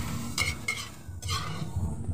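Kangkong with oyster sauce is stir-fried in a full wok, with a few scraping stirs and utensil clanks over a soft low background, no voices.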